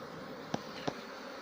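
Bees at a hive yard in spring, a soft steady drone with two brief louder buzzes as individual bees pass close by, otherwise faint and even.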